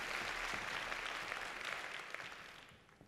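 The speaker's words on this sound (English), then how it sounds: "Big round of applause for you." Sustained audience applause fills a speaking event hall, dense and steady clapping that gradually tapers off toward the end.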